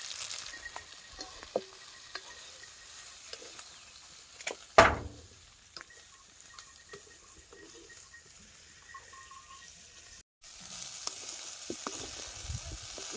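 Okra sizzles and fries in a pan on a wood-fired chulha, a steady close hiss with scattered pops and one sharp stirring scrape partway through.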